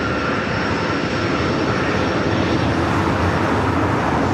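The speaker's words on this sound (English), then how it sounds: "now rolling on 24 left, Southwest 2587." Southwest airliner on its takeoff roll down runway 24 left at Los Angeles airport, a loud, sustained broadband jet engine roar close by, unbroken from start to finish.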